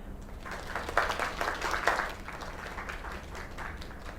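Applause from a small group in the video game Lake, celebrating at a talent contest: scattered clapping that swells briefly and then continues at a steady, moderate level over a low background hum.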